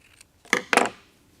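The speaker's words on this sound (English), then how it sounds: "I'm going to cut off the frayed edge" Scissors cut the frayed edge off a piece of ribbon in two quick, crisp snips close by, the second slightly longer, with no talk.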